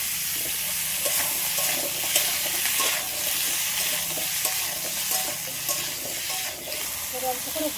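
Cut yam and potato pieces being turned in an oiled kadai, a constant sizzling hiss under soft scraping and stirring knocks, close and steady with a few brief louder clatters.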